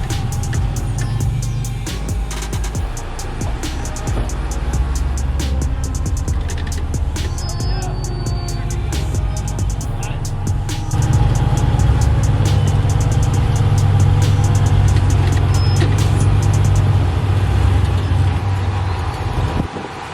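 An off-road rock-crawling truck with a roll cage drives out of a rocky section on 21 Road, its engine a steady low rumble that swells louder midway, with wind buffeting the microphone and scattered clicks and knocks.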